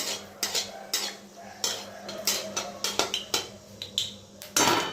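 A spoon or spatula clinks and scrapes against a pan while chilies fry, with repeated irregular metallic strikes, close and fairly loud.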